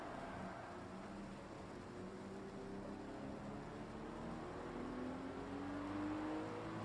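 A car engine drones steadily with rising whine as it revs up, continuous and fairly loud with a mechanical, synthetic quality, from the video game Gran Turismo 7.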